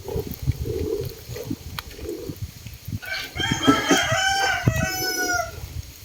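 A chicken clucks and a rooster crows loudly nearby, rising over a noisy, muffled background.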